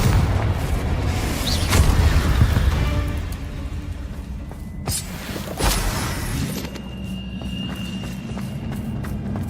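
The fiery Confringo spell explosion in Hogwarts Legacy: loud, rumbling booms bursting over a constant din of game effects, with no one speaking.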